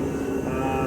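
A space heater's steady whirring fan hum, constant and close, with no change over the brief moment.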